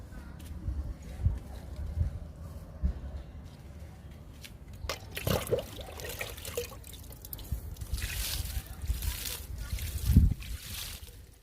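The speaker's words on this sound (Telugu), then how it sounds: "మందారాలకి లిక్విడ్ ఇచ్చేద్దాము." Liquid fertilizer poured into tubs of hibiscus plants, soft dribbling and splashing with bursts of trickling water and occasional handling knocks.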